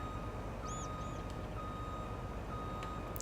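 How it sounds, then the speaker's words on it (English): A truck's backup beeper in Farming Simulator 19 chirps in a few faint, evenly spaced beeps over a low, steady engine hum. "At least I have a backup beeper on my truck."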